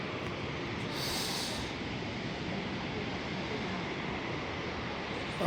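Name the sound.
small mountain waterfalls on the Yamunotri temple path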